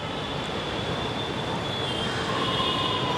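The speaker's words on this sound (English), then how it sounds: "my first time riding the train." Continuous rumble and clatter of a metro train in motion in Chennai, India, heard from inside the carriage, with a thin high squeal of wheels running along the rails.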